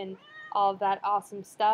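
A pet cat meows several times in short, clear calls, with a person talking over and between them.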